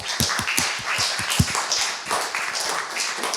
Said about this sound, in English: I hope you can hear the applause for a remarkable talk.